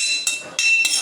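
Cashews roasting in ghee in a pan for a children's sweet, stirred with a metal utensil: a steady high sizzle with two or three quick scraping clinks, close and fairly loud.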